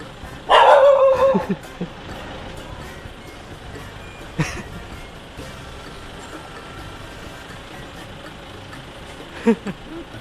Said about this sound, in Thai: ใจเย็นสิ พ่อหนุ่มเห่าอะไรเยอะแยะ